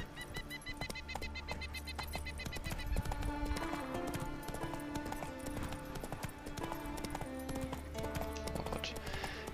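Horse hooves clip-clop at a steady riding gait in The Witcher 3, mixed with game music and ambient sound under a quiet backdrop, continuing throughout.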